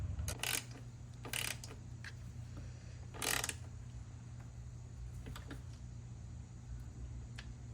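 A ratchet turning a 10mm socket during a Can-Am install, three short bursts of rapid clicking near 0.4, 1.4 and 3.3 seconds over a quiet low hum, with a few softer ticks afterward.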